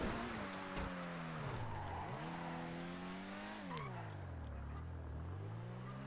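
A race car in a video game spins out, its tires squealing and skidding in long, sweeping pitch bends while the engine whines and revs up and down, loud and continuous.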